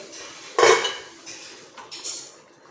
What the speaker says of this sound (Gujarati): ડીશ મૂકી દીધી છે મેં અહીંયા